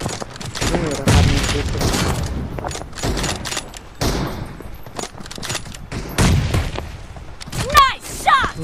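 Rapid volleys of gunshots and thudding impacts from a shooter video game, coming in repeated bursts with short gaps, while people talk over the action.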